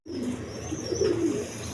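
Soft, steady cooing from Sheraji pigeons kept for sale, a low continuous murmur close by with no other sounds over it.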